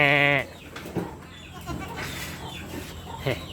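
A single short, loud bleat from a goat in a farm pen opens the sound, followed by quieter shuffling and low background noise.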